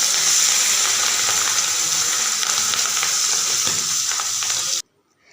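Marinated prawns fry in hot oil with a loud, dense, continuous sizzle and crackle up close, steady for several seconds before cutting off abruptly, with no voices.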